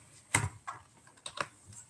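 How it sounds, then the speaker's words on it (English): Keys clatter on a new computer keyboard in a quiet room, a handful of separate close, crisp clicks and small bursts spread unevenly, with no voices. "I was able to buy this new keyboard as well."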